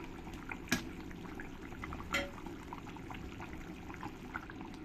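Water poured into a pan of chicken curry gives a steady, close wash of liquid rushing and bubbling, broken by two brief utensil clinks.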